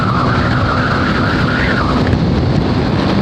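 Strong wind roars steadily over the microphone while riding a Raider 150 Fi motorcycle on a highway in Nueva Ecija, a loud, constant broadband rush with no speech.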